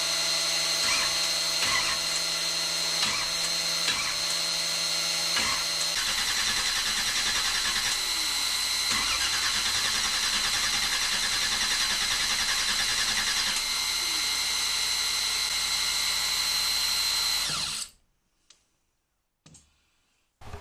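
A power drill runs steadily for about seventeen seconds, priming the oil system of a crate engine with a ticking, clicking whir, then cuts off into near silence.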